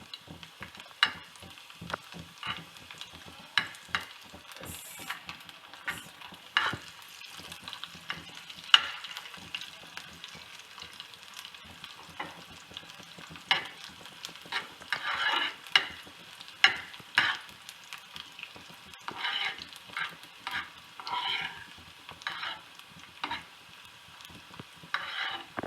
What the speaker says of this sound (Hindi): लहसुन थोड़ा सा रोस्ट हो जाएगा तो हम इसमें ज़ीरा और लाल साबित मिर्च भी ऐड कर देंगे।